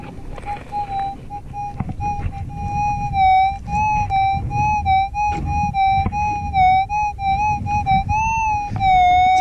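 A metal detector sweeping for gold in the ground gives a sustained electronic signal tone that wavers and warbles in pitch, with faint ground noise and scraping underneath.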